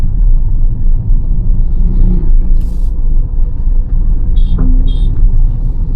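A car creeping slowly over a speed breaker in low gear gives a loud, close, continuous engine rumble with rattling road noise and a couple of brief squeaks and clicks.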